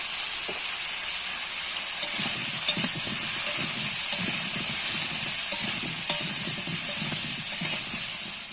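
Chunks of elephant foot yam fry with salt and turmeric in a pan, with a steady hiss and sizzle under repeated soft stirring scrapes, close and without talk.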